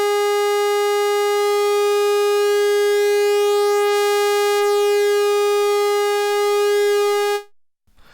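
A steady, buzzy pulse-wave tone from a Behringer Pro-1 analog synthesizer with a rich harmonic edge holds loud and unchanging for about seven seconds, then cuts off abruptly.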